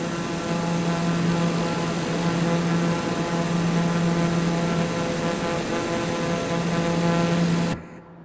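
Microsoft Flight Simulator aircraft engine drones steadily with a loud, even propeller hum and tonal whine for about eight seconds, then cuts away abruptly to near silence.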